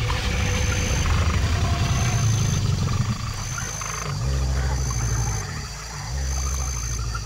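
Alligator bellow: a deep, rumbling low roar that swells and fades in several long pulses over a steady background hum, with no speech.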